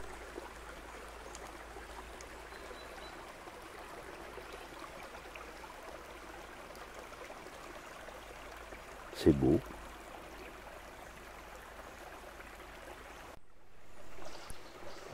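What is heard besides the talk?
small stream babbling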